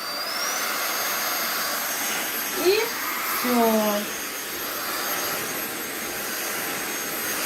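Bosch cordless vacuum cleaner running steadily indoors at a fairly quiet, even whir throughout, with brief voices speaking over it midway.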